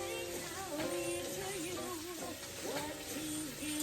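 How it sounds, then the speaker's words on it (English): Sausage browning in a pan with olive oil and butter, a steady close crackling sizzle under a person speaking. "Now we're just letting the sausage brown up a bit."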